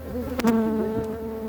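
A close, steady hum of honeybees fills the air as the colony is shifted from its old hive box to a new one, with a couple of sharp knocks near the start.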